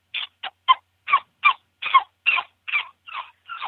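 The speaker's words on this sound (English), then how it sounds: "This is prairie dog distress." A predator caller plays a prairie dog distress sound, a run of about ten short, raspy, high chirping cries at a steady pace, close and clear against silence.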